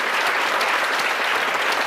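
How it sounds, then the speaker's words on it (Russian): A studio audience claps, a short, dense and even burst of applause heard up close with no talking over it. "Аплодисменты затихли"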